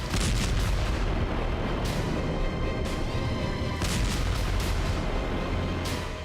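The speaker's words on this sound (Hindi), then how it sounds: "काला सागर ड्रोन में लगाए गए विस्फोटक के धमाकों से धधक उठा।" Dense, sustained rumble of heavy gunfire with repeated booming bursts, loud and continuous throughout, like a distant battle with explosions, as a Black Sea drone's explosives detonate in the Russia-Ukraine war.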